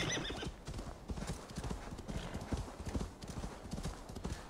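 Horse hooves clip-clop rapidly and continuously as a horse is ridden in Assassin's Creed Valhalla, a close, busy rhythm of hoofbeats with no pauses.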